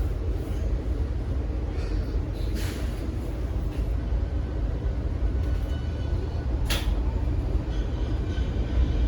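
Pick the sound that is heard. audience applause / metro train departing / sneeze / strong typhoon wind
metro train departing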